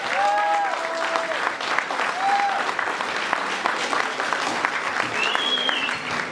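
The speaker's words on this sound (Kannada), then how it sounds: "ಜೋರಾದ ಚಪ್ಪಾಳೆ ಮತ್ತು" Loud, sustained applause from an audience at a children's cultural performance, dense continuous clapping with a few cheers and whistles rising above it.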